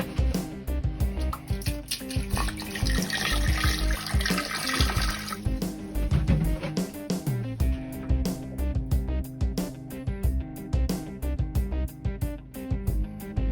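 Water trickles and drips steadily from a leaking RV toilet with a worn waste ball, a continuous close splashing flow with scattered drips and clunks, heard without speech.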